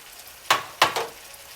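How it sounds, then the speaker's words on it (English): Vegetables sauté with ground beef in a soup pot, giving two or three short sizzling bursts as the mixture is stirred, close and crisp over a quiet low hiss. "we're gonna let those veggies kind of saute within the beef"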